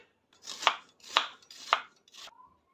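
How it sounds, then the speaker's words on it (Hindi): Onions are roughly chopped with a knife on a board: four crisp, evenly spaced chops about half a second apart, close and clear with no talking. "ये हमने 3 प्याज जो लिए हुए थे उसे चॉप कर लिया है, रफली चॉप कर लिया है"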